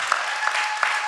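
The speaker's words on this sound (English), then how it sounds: "Give Mike a nice round of applause." Steady applause from an audience, dense even clapping that fills the whole moment, with a few sharper claps standing out.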